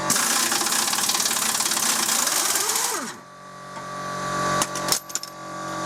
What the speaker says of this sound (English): Of course, you don't need a nut runner, but it makes life easier.